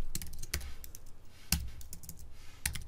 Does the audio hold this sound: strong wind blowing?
no